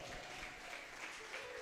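A church congregation claps in praise during a Spanish-language service, a brief, soft burst of clapping with faint voices mixed underneath.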